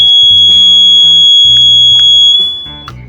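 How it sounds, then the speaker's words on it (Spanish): A motorhome alarm board sounds a loud, steady electronic siren tone, triggered by a hand passing a motion sensor, holding continuously before fading out near the end. "Activamos la alarma."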